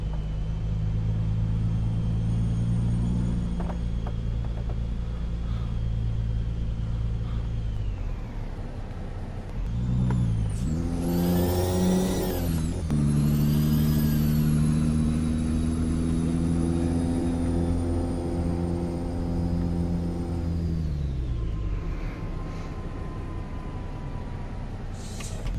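A heavy truck engine in Euro Truck Simulator 2 drones steadily while driving through town, its deep rumble easing down and then revving up again with rising and falling pitch, loud and continuous.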